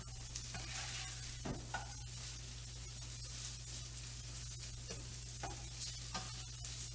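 Chopped vegetables for a frittata sizzle and crackle steadily in a hot frying pan, cooking until just soft, with occasional stirring scrapes over the constant fry.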